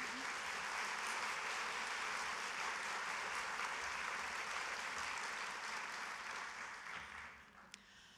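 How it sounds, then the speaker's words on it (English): A conference audience at a keynote talk applauds steadily for several seconds, the clapping thinning and fading out near the end. "them a round of applause."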